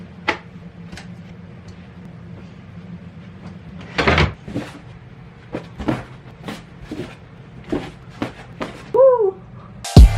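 A bedroom drawer holding undergarments slides open with a wooden scrape and knock, followed by a string of sharp clicks and taps as items are handled nearby.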